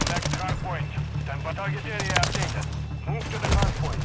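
Gunfire in the video game Modern Warfare 3, with rapid automatic bursts and single shots crackling close and loud over a low rumble, while a voice briefly talks in the mix.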